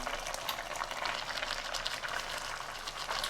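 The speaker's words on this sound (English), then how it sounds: "So 200 grams of butter is going in now" Chicken karahi bubbling hard after 200 grams of butter goes in, a dense steady crackle and fizz of boiling fat and liquid, close and continuous with no talk.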